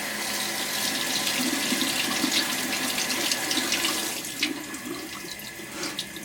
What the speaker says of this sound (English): Holly, you washed these brushes.